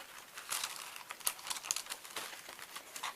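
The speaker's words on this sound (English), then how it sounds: "Glassine bag." Glassine paper bag handled at a junk journal, giving a close, continuous dry crinkling with small crackly bursts throughout.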